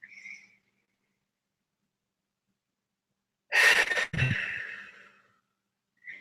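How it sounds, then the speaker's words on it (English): A deep breath drawn in sharply, then blown out in a long, loud exhale, with a short pause between and near-silence around. "So take in a nice deep breath."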